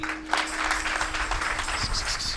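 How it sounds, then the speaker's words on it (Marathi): An audience claps along during a Marathi kirtan devotional performance, steady dense clapping over a sustained instrumental drone, with no voices prominent. "टाळी वाजवा टाळी."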